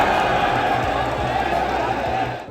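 Dense, steady crowd din of a betting audience at a Muay Thai fight in Bangkok, voices blending into a continuous roar with a few sharper shouts rising out of it.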